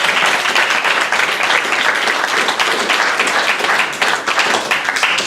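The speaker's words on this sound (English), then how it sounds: "Give you all a round of applause." A roomful of people at a public transit meeting claps in sustained, dense applause, loud and even throughout, with no talk over it.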